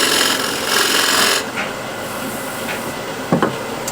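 A skew chisel cuts a wood platter spinning on a lathe. It gives a steady close scraping, rasping hiss that eases partway through, with a short sharp scrape near the end.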